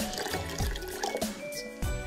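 Water tinted with food dye poured into a beaker during a children's experiment, a continuous close splashing and gurgling fill with bubbly trickles and small plops.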